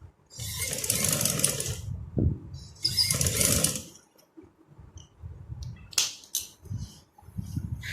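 A sewing machine stitches a shalwar in two bursts of rapid whirring, each lasting about a second, then falls to softer clicks and handling sounds as the cloth is adjusted.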